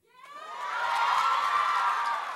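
A student debate audience erupts in cheering, starting with a rising shout and swelling into a loud, sustained wash of crowd voices that tapers slightly at the end.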